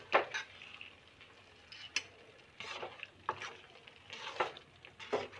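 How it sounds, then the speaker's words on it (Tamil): A spoon scrapes and clinks against a kadai while fried raisins and cashews are stirred into thick papaya kesari, in irregular soft scraping strokes close by, with no talking. "இப்போ நம்ம வறுத்து வச்சுருந்த கிஸ்மிஸ் முந்திரியை சேர்த்து கலந்து விட்டுருவோம்."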